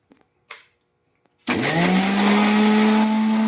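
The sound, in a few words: mixer grinder grinding ginger, garlic, chili and cumin paste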